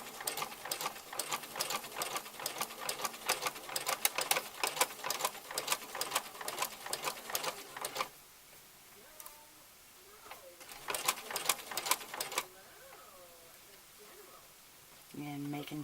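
A sewing machine runs a long stitch along a half-inch hem in bursts of rapid, steady stitching, stopping for pauses with quieter handling sounds and soft background noise.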